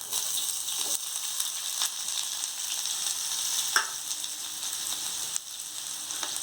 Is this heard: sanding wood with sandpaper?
no